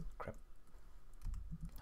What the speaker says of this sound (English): holy crap, I suck at typing